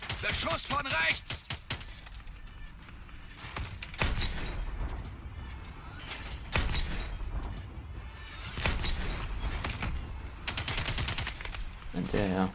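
Sharp bursts of gunfire in Call of Duty: Advanced Warfare crack in quick clusters, with rapid volleys and booms over a busy, noisy battle background.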